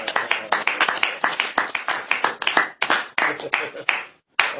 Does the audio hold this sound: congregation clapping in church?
yes